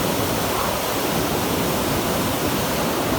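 The Mandakini river flows near the Bhairavnath temple at Kedarnath as a loud, steady rushing roar of fast water that fills the whole moment without a break.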